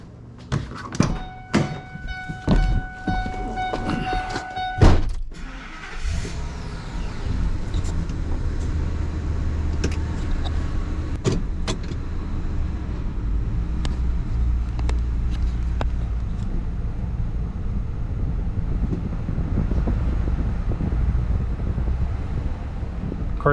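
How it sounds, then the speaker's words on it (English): Thuds, knocks and metallic clanks as a truck is moved off the delivery truck while a boxed 72-inch US General toolbox is set down, followed by a steady rumbling roll under wind noise. "let's go ahead and move the truck and get this thing down"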